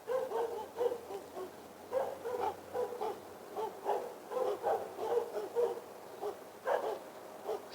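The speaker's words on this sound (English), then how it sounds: "a few dogs are harassing her. I didn't anticipate dogs." Several dogs bark repeatedly in an outdoor setting at sunrise near Spituk Gompa in Leh, a rapid string of medium-loud barks at moderate distance overlapping one another.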